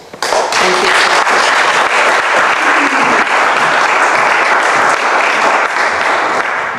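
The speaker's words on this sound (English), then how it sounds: "So, please, a big applause." Loud, dense audience applause at an emerging writers' literary tour event, rising quickly after a short quiet start and then sustaining a full, even roar of clapping to the end.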